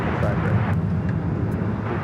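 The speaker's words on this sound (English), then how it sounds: "That is Air Canada 788 taking off to Toronto on the A321." An Air Canada Airbus A321 takes off from LAX, its engines making a loud, continuous jet roar and rumble that fills the whole stretch with little change.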